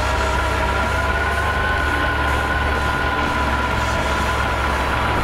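A steady, rumbling Honda CB750 motorcycle engine runs continuously at close range, a constant low drone with no pauses, in light rain.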